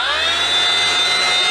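A Ryobi RROS18C brushless random orbital sander runs up and holds on its lowest speed setting, giving a steady, loud, close whine with a faint rising pitch and no talking.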